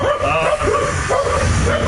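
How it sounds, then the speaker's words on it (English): Dogs barking and yipping in the background through most of the short stretch, with whimper-like tones, fairly loud and continuous. "problems with having dogs."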